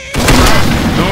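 A heavy explosion from the zombie shooter Left 4 Dead 2, a sudden loud boom that hits after a brief silence and rolls on as a sustained rumble.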